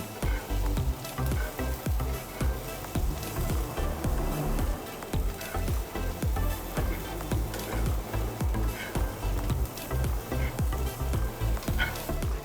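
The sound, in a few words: sweet potatoes frying and being stirred in a pan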